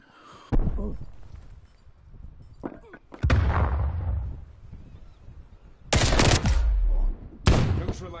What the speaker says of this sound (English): Bomb dropped.